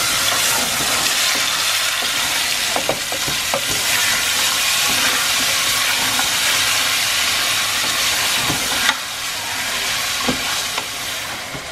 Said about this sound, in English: Now I can put my meat, which I've already washed and cleaned.